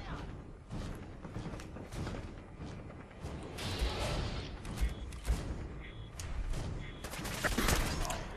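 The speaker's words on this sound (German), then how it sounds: "Alter, hör auf mit den Granaten zu werfen." Grenade explosions in Fallout 4, a dense run of overlapping blasts and gunfire-like bursts that keep coming at fairly close range, loud and chaotic with little pause and no clear voices.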